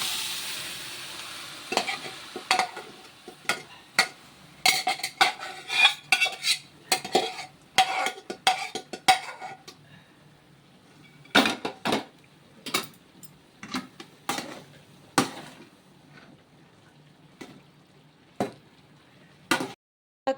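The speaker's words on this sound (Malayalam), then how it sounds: "ഇനി അത് വറുത്തിടുകയാണ്" Chopped banana stem is stir-fried in a pan, with a long run of quick scraping spatula strokes and sizzle, dense at first and then sparser, sharp metallic clicks close by.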